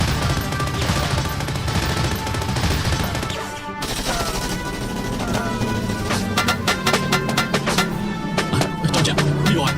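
Gunfire and machine-gun shooting in a war drama battle scene, with rapid rattling bursts and sharp single shots that grow denser toward the end, layered over rumbling background noise.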